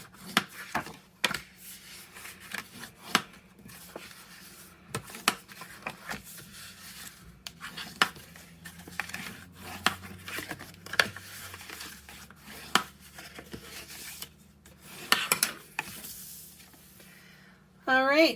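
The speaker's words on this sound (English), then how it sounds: "As usual, I'm going to fold and burnish all of my score lines." Paper is folded and burnished along score lines for a craft box, giving soft rubbing strokes and sharp little creases and taps, close and quiet, with a voice speaking briefly near the end.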